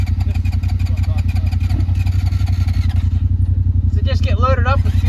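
A Honda 450R dirt bike engine idles close by with a loud, steady, rapid thumping pulse, while people talk over it throughout.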